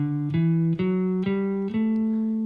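A guitar plays a run of the A Mixolydian scale as single notes, about five evenly spaced plucked tones climbing step by step, each ringing clearly into the next with no talking over it.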